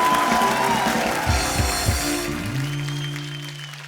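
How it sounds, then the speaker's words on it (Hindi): Loud applause and cheering from a television comedy show's studio audience fill the opening, then thin out as music with sustained tones and low beats takes over. "जोरदार ताली होनी चाहिए यार।"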